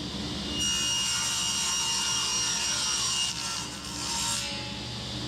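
Hand sawing through a wood board to trim it square, a close, continuous raspy stroking with a faint high ringing, steady for several seconds with no talk.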